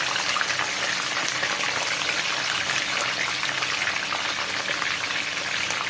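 Marinated milkfish (daing na bangus) sizzles in hot oil with a steady, dense crackle and spatter that holds even and close throughout, with no talking.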